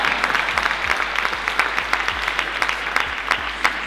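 Scattered, fairly light audience applause at a French awards ceremony, a steady patter of distinct claps from a modest crowd throughout, with no voices over it.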